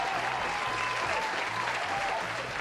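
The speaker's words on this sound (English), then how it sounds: "I'm fucking giving claps for that" Steady hand clapping from a livestreamer fills the whole stretch, loud and continuous, with a faint voice underneath.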